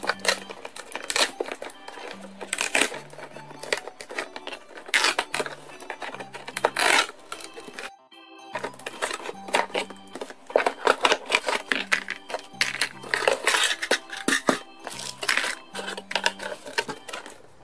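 Packaging for a Disney Cars Piston Cup garage toy set crinkles, tears and clicks as it is unboxed, a quiet, busy stream of rustles and small snaps running almost without pause.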